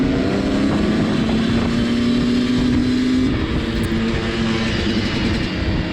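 Motorcycles roar down a long stretch of blacktop in a drag race at a bright, sunny racing event, engines droning loud and steady throughout with a rising tone that hints at acceleration.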